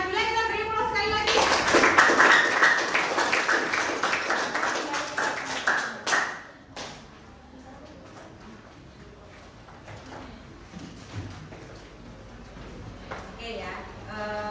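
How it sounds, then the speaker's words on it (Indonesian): A classroom audience applauds two students named Masa and Nabila during a school guidance and counseling lesson, several seconds of dense clapping that stops abruptly, followed by quieter room noise and faint talk. "Masa dan Nabila kita beri aplaus sekali lagi"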